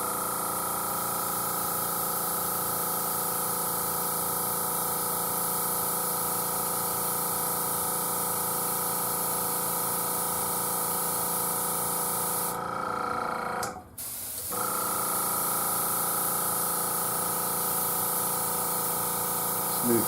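An airbrush hisses steadily with a constant spray of air and paint onto a bass guitar body, briefly cutting out for a moment before resuming its even, close hiss.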